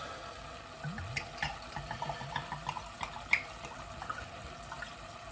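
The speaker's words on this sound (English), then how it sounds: "3/4 of a glass of red wine in, just to let it cook in." Red wine is poured into a cooking pan of meat and vegetables, a soft trickling, splashing stream with small drips, close but quiet and with no voices.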